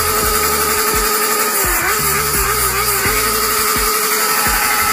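A Honda CB650R inline-four motorcycle engine cold starts and runs loud and close, rising and falling through several sharp throttle blips over a steady idle.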